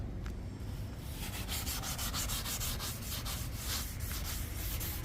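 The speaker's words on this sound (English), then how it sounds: "What we're trying to do is just take off a lot of the big scale and rust off of it" Steady, continuous abrasive sanding grinds scale and rust off a car's metal body, a dense rough rubbing that runs unbroken and fairly loud for the whole stretch.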